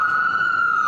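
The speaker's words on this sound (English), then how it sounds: "That's an ambulance. Just a siren, no actual danger." An ambulance siren on a Philadelphia street holds a steady, loud, piercing tone for a short moment, close by and alone without speech.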